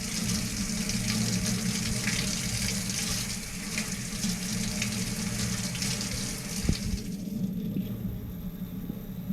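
Cold tap water runs steadily into a sink while freshly made butter is rinsed under it, a constant close splashing hiss that cuts off near the end.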